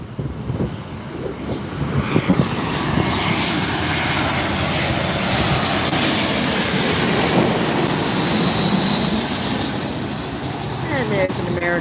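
An airliner taking off at LAX gives a sustained, loud engine roar that swells and holds for many seconds, with wind buffeting the microphone and brief clicks near the start.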